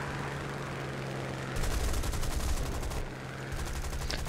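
Gunfire rattles in the War Thunder video game, loud rapid automatic bursts crackling in two long volleys with a short pause between, over a steady engine drone.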